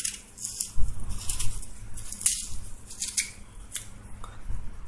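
A knife slices through a red onion in a quiet kitchen, giving soft crisp cutting and crunching sounds in an irregular rhythm, close and fairly faint with no talking.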